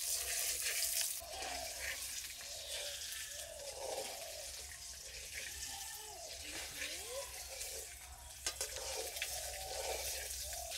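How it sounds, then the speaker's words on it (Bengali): Eggs frying in a home kitchen pan give a steady, close sizzle that runs the whole time, with small stirring and clinking sounds and no talking. "ডিম ভাজা হয়ে গেছে, তুলে নেব।"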